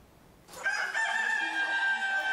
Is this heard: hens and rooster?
yes